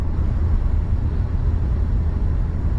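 Low, steady road and engine drone inside the cabin of a Renault Captur E-Tech hybrid cruising at 110 km/h, its small petrol engine running in Sense mode as a faint hum blended into constant rumble.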